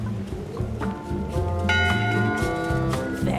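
A ship's bell rings aboard a pirate ship in the Return to Monkey Island video game, clear metallic tones struck a few times over a low musical background.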